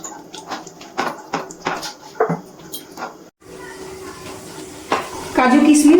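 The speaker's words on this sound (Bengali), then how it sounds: "গ্যাসের ফ্লেমটা লোতে রেখে কাজু কিশমিশ ভেজে নিচ্ছি।" Cashews and raisins fry in ghee over a low gas flame, first with clattering stirring in the pan, then a steady sizzling hiss that grows louder near the end.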